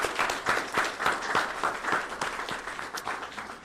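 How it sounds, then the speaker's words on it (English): Applause from the audience at a city Education & Neighborhoods Committee meeting, honoring Mr. Chang Lee. A moderate crowd claps steadily for several seconds, slightly distant and roomy, with the clapping easing toward the end. "I believe he deserves a big round of applause from everybody."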